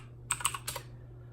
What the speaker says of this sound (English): if I am typing on the wrong computer, the wrong keyboard